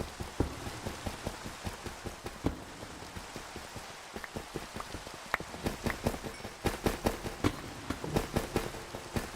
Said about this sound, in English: It could stop raining any time, would be very nice